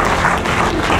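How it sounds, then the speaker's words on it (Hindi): Brief, dense applause from a crowd at a product testimonial event, loud and continuous for about a second. "और शानदार ताली।"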